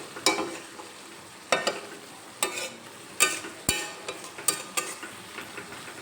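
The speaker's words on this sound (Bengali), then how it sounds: "একটু নেড়ে চেড়ে নেবো যাতে কড়াইতে লেগে না যায়" A spoon stirs cauliflower and egg curry in a kadai over a medium gas flame, giving about eight sharp scraping strokes at uneven intervals with a faint sizzle between them.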